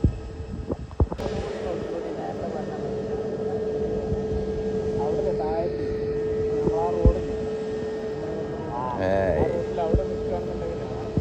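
A steady, droning airplane engine hums throughout as the plane turns, with a few sharp knocks and voices talking intermittently over it.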